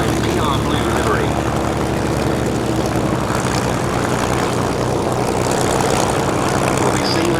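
A Mustang's piston aircraft engine at a Duxford airshow drones loudly and steadily with a propeller roar that rises and falls slightly as it passes, while an announcer talks over a public address.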